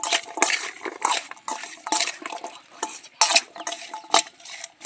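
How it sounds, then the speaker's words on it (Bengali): Jujube fruit (kul) being mixed by hand in a bowl on a rooftop, with rhythmic, close, wet squelching and scraping strokes repeating in quick irregular bursts, no voices. "এবার কুলটা মাখিয়ে নেব।"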